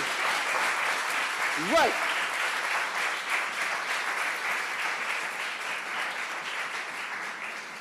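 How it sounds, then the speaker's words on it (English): Audience applause fills a book launch event, steady clapping from a crowd sustained throughout, with a brief voice cutting in early on. "Give she a round of applause."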